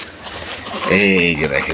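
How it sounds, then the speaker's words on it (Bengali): A pigeon in a cage coos close by, a low rolling call that swells in the second half over a soft background hum. "এই যে আমার কবুতর ভিতরে আছে।"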